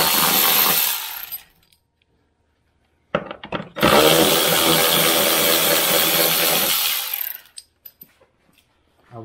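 A loud power tool whirs in two long bursts, stopping and starting again, with short clicks and rattles in the quiet gap between, while removing parts from a Can-Am Maverick X3 to reach the intercooler.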